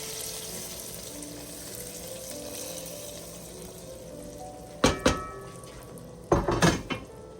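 A low steady background hum, then two sudden loud splashing sizzles close by with clinking of a metal pan as hot tempering is poured into cooked dal, the second burst longer.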